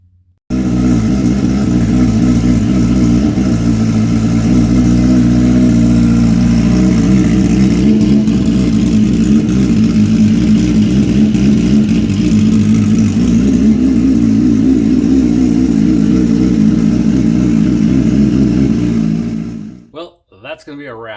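A car engine runs close by after starting, a loud, steady low rumble with a throbbing idle that shifts slightly in pitch as it warms, then cuts off abruptly near the end.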